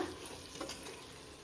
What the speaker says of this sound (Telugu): ఇప్పుడైతే ముందుగా కడిగి నానబెట్టుకున్న బియ్యాన్ని వేసుకుంటున్నా